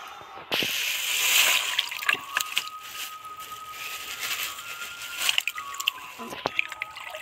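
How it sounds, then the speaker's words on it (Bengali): Raw mutton pieces being washed and rubbed by hand in plenty of water in a kitchen, with steady sloshing and dripping, wet squishing and occasional splashes close by, and faint speech in places. "মটন সব সময় এইভাবে ভালো করে অনেকটা জলে ভালো করে কচলে ধুয়ে নিতে লাগে"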